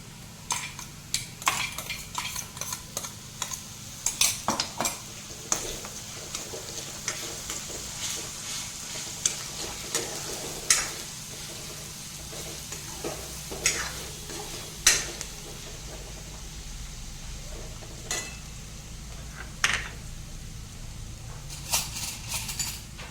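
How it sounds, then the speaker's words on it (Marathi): Browned onion frying with ginger-garlic paste in a pan for Nashik-style misal, a soft ongoing sizzle under repeated sharp clinks and scrapes of a spoon against the metal pot, heard alone without speech. "कांदा आपला छान आता लालसर झालाय पण याच्यामध्ये आता आलं लसूण पेस्ट घालूया"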